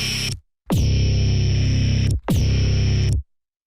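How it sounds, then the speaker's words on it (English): A harsh, distorted bass tone plays before any overdrive is added, sounding in three loud sustained bursts with short silent gaps between them. "As you can hear, we are already having really harsh bass sound"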